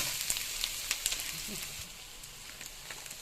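Egg curry sizzling and frying in a pan while being stirred, a soft continuous hiss with light scraping and a few small pops, fairly quiet and steady throughout.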